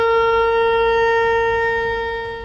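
A shofar, a ram's horn, sounds a tekiah: a single long, steady trumpet-like blast that holds close and loud for over two seconds, then fades a little near the end.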